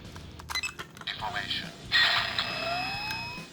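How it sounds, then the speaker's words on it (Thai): Electronic toy chimes and a rising synthesized whine from a DX Faiz Axel transformation toy follow a few plastic clicks, with a voice talking faintly underneath. "เพื่อไปใส่ยังไฟส์โฟนก็จะมีเสียง reformation"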